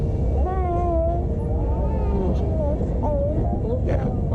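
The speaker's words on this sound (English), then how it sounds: "That's a cat." Cat meowing repeatedly in short wavering cries near a Disney park ride, heard over a steady loud rumble of vehicle or ride noise.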